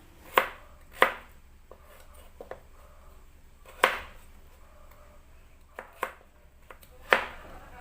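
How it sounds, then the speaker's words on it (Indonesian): Two small carrots being diced into cubes with a knife on a board: six or seven sharp, separate chops spaced irregularly, close and fairly quiet, no talk. "ini juga ada 2 biji wortel ukuran kecil. Diiris kotak juga supaya sama dengan kentangnya"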